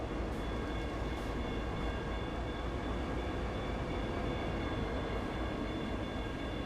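A diesel locomotive on an MBTA commuter train in the Train Sim World game gives a steady, loud rumble with a low engine drone and faint high whine throughout, no voices over it.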